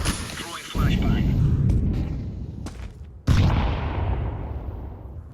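Grenade and flashbang blasts in a tactical shooter game, two loud booming detonations a few seconds apart, each decaying into a long rumbling tail.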